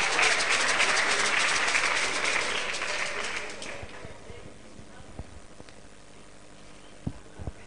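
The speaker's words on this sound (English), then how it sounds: "Can we give a round of applause" An audience at an arts and book festival claps for a welcomed speaker, a dense round of applause that holds steady for a few seconds, then thins out and fades to scattered claps and hall murmur.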